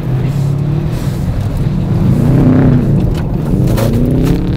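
Toyota Hilux accelerating in second gear under turbo boost, a loud close engine drone rising steadily in pitch over road rumble, heard from inside on a rally-style run.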